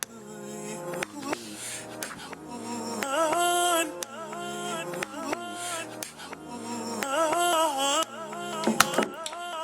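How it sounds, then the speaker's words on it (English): Reversed slices of a chopped audio sample played back in Ableton, a string of short tonal chops with swelling reversed attacks and abrupt cutoffs, cycling rhythmically at moderate loudness with no talking. "I put the reverse on, and what that's going to do is going to play each one of these slices reversed"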